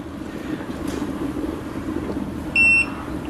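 A brewing timer gives a single short, bright electronic beep over a steady low roar during the boil of a Sir Thomas Porter grain-to-glass homebrew.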